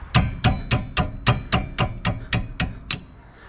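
Eleven sharp metallic hammer strikes on rear brake parts of a minivan ring out at an even, steady pace, close and loud, each with a brief clanging ring.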